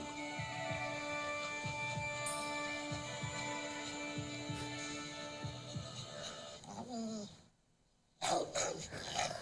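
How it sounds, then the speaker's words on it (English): A wild dog growls low and steadily against a humming electronic backdrop in a commercial, followed by a brief silence and a sharp burst as the attack begins. "He's getting attacked by the dog."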